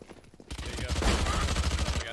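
A submachine gun in a competitive shooter fires a long, rapid burst of tightly spaced shots, loud and close, rattling on for well over a second before cutting off.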